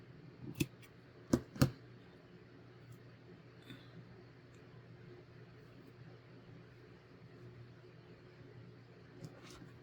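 Scissors snip through a napkin for a bookmark craft: three quick, close cuts near the start and one more at the end, against a faint, quiet room background.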